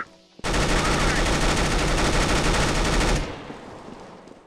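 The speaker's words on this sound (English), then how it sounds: "shooting the M249 feels sluggish and somewhat sad in comparison" An M249 machine gun firing in Counter-Strike: Global Offensive, a loud sustained burst of rapid automatic fire lasting about three seconds, cutting off sharply into a fading echo.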